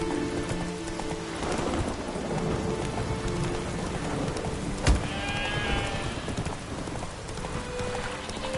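Steady rain pours down in The Witcher 3: Wild Hunt with a dull, constant patter, broken by one sharp thud of thunder near the middle; no talking.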